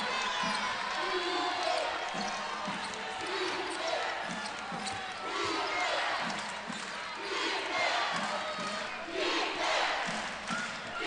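The Iowa Hawkeyes home crowd roars loudly and steadily in a packed arena at an NCAA women's basketball tournament game, a dense wall of cheering with balls bouncing underneath.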